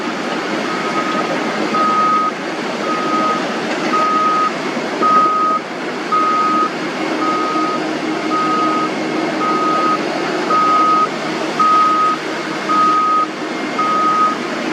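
A bulldozer working on a beach backs up with loud, evenly spaced reversing beeps over a steady engine rumble, with a high tone repeating about every second.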